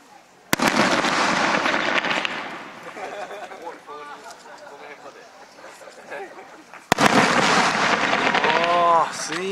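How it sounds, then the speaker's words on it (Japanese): Two loud bursts of underwater fireworks crackle and boom nearby at a sea urchin festival fireworks show on Teuri Island, separated by a quieter stretch with scattered pops and people's voices. "水中花火だ。"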